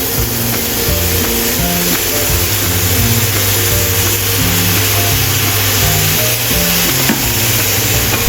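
Mushrooms sizzle and hiss steadily in a hot pan while being stir-fried, a loud continuous frying crackle with gentle stirring, backed by soft music.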